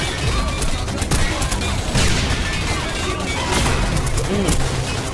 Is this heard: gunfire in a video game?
yes